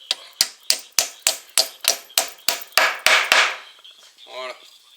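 A hammer drives a wooden dowel into a hole drilled in a wall with about eleven sharp, evenly spaced blows in quick succession, close and loud, then things go quiet apart from a faint brief squeak.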